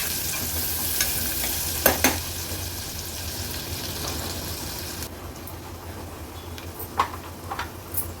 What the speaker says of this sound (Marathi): तेलावर कांदा व्यवस्थित परतून घेते।